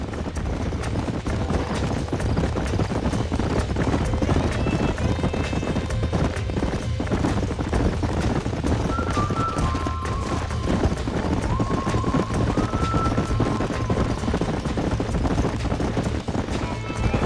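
Horses gallop in the Western video game Red Dead Redemption, with a continuous, steady rhythm of hoof clip-clops, occasional whinnies and wind noise, and character dialogue heard now and then.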